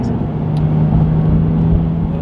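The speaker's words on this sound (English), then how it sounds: "There you go, little blast of the accelerator." A Porsche GT3 accelerates, its engine giving a loud, steady droning roar with a firm low tone held throughout the short burst.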